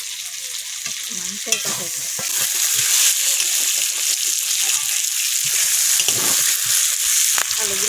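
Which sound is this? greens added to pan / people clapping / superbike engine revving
greens added to pan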